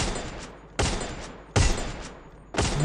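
Free Fire gameplay gunfire: four sharp, loud shots spaced about evenly, each snapping out and then trailing off briefly before the next.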